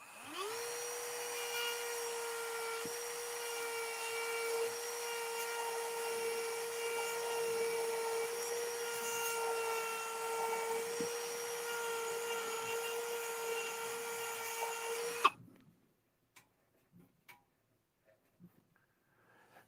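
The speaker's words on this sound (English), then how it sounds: "Ah, 3D printer, stupid thing." A 3D printer runs with a steady whining stepper-motor hum and faint ticking for about fifteen seconds, then stops abruptly, leaving near silence with a few small clicks.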